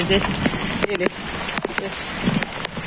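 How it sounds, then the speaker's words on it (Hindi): Heavy rain pours steadily outside, a dense continuous hiss with scattered sharper drops and knocks, loud and close, while someone speaks over the downpour. "इतना जोरदार बारिश है"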